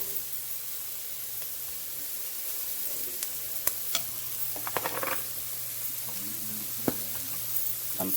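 Shrimp sautéing in a pan with Creole seasoning gives a steady, moderate sizzle and hiss. A few scattered clinks and scrapes of stirring come through, with no voices.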